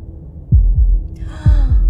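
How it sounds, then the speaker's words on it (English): Two paired heartbeats in the Slay the Princess video game, each a deep double thump, close and clear over a low hum, with a faint rising tone entering between the pairs. "That was the sound of a heartbeat,"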